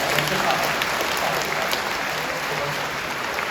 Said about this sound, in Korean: 뜨겁게 박수해 주시죠